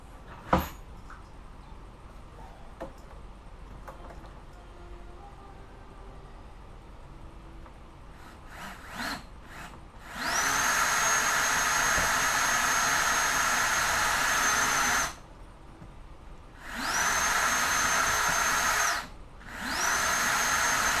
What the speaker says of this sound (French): Et on va percer un petit trou ici.